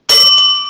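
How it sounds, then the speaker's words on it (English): A single bright ding of a small bell rung during a live stream, sharp onset and a clear ringing tone that decays slowly, loud and close with no talk. "We don't want her ringing our bell all night."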